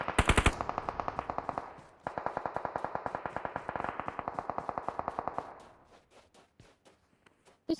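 Rapid bursts of automatic gunfire in PUBG on the Miramar map, loud and close with steady repeated shots, a brief pause near two seconds, then thinning into scattered single shots and a final sharp crack.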